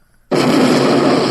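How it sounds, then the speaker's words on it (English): A sudden explosion bursts in after a brief silence, a loud, sustained roar of broadband noise that fills the rest of the moment without fading. "Explosion"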